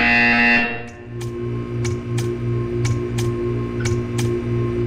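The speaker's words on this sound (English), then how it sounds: "You will hear a buzzer." A buzzer in the Portal 2 video game sounds as a series of short, evenly spaced bright pulses over a steady electronic hum, fairly loud and without talk.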